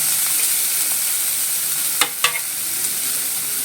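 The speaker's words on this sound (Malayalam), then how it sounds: "ചെറുതായിട്ട് അരിഞ്ഞ വലിയ ഉള്ളി പകുതിയാണ് ഇട്ടിട്ടുള്ളത്. ഇതും കൂടെ ഒന്ന് വഴറ്റി കൊടുക്കാം." Half a finely chopped large onion sautéing in a pan for a moringa leaf thoran, a steady close sizzle with a couple of sharp spatula scrapes and stirs partway through.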